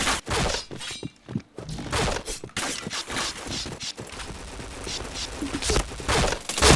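Rapid bursts of gunfire from a shooter video game, with fusillades and single cracks crowding one another at a loud level, while a player speaks briefly over the shots.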